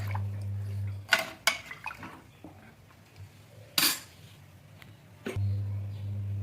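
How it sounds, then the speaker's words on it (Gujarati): Khichdi stirred with Maggi masala in a pressure cooker: a spoon clinks and scrapes against the metal in a few sharp bursts between quieter stirring, with no talking. "આ બધું એડ કરી સારી રીતે મિક્સ કરીશું"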